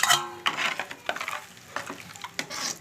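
Fried onions are poured and stirred into a lentil kuzhambu with ball dumplings, making a brief sizzle and then a run of wet scraping stirs and light clinks against the pot, close up with no talk.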